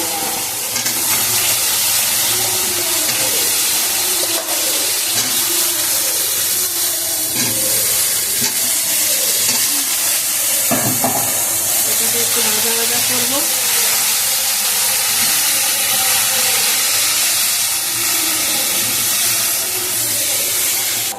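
Boiled taro corms and potatoes frying in a pan with oil, ginger and cumin, giving a steady close hiss and sizzle that continues for the whole stretch with small shifts and clatters.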